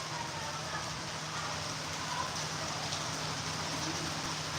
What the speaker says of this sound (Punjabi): ਇੱਥੇ ਵੀ ਪੈ ਰਿਹਾ ਠੀਕ ਹੈ ਲੌਂਗਵਾਲ ਵੀ ਪੈ ਰਿਹਾ ਬਈ ਮੀਂਹ